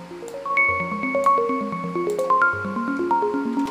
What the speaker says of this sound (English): I'm gonna find this arpeggio right here that I like to use a lot.